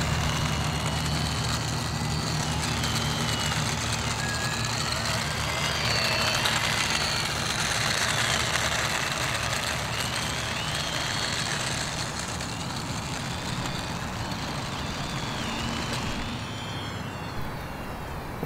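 An E-Flite UMX Twin Otter RC model plane taxis on the ground, its small electric motors giving a steady, continuous whine. The hum holds at an even level throughout, with no talk over it.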